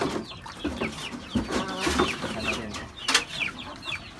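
Month-old chicks cluck and peep at feeding time, a dense overlapping chorus of short chirps and clucks from several birds close by, with a few louder calls standing out.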